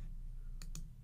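Two quick computer mouse clicks, faint and close, over a quiet low hum.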